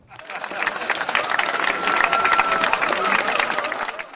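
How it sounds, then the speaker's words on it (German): Audience applause at a German campus TV magazine recording, a dense burst of clapping lasting about four seconds, with some crowd noise and faint voices mixed in. "Das ist jetzt die Stelle für den Applaus"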